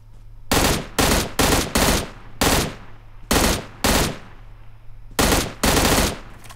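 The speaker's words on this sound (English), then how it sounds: "Someone was just shooting at me." Automatic gunfire in the battle-royale shooter PUBG Mobile: about nine sharp, loud bursts come in an uneven rhythm with short silent gaps, and no speech is heard.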